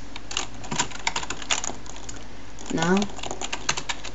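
A computer keyboard is typed on while writing C++ code, producing scattered light clicks and taps with a short spoken word partway through.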